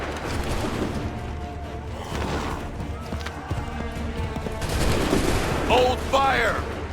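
Musket volley fire in Assassin's Creed III's Battle of Bunker Hill, with scattered and rolling shots building into a heavier burst near the end, battlefield din and shouting voices under it.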